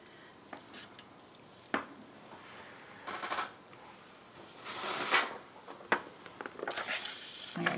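A paper card edge gets trimmed in a crafting session: a series of quiet crisp scrapes and snips at close range, irregularly spaced with small taps and handling noises between them.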